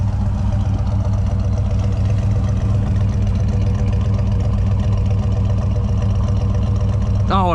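The 350 small-block V8 in a 1978 GMC Sierra Classic pickup runs at a steady, throbbing idle with a deep, even rumble. It stays close and loud throughout, and a brief rising squeak appears near the end.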